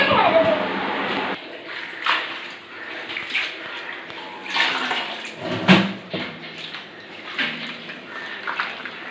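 Cut potatoes and greens stalks are washed under running water, a splashing flow that surges and dips in uneven bursts, with a voice heard faintly now and then.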